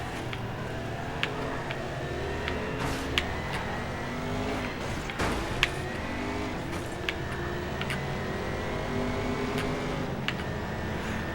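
Race car engines in the Race Driver Grid video game during a three-lap race in San Francisco, a continuous loud droning engine roar with shifting pitch and occasional sharp clicks and bumps, no talking.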